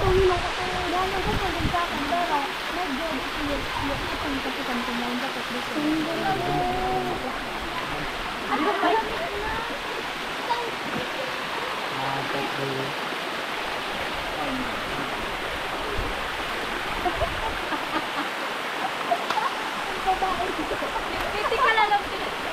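A waterfall where people are bathing roars as a constant broadband rush, with children and adults talking and shouting over it.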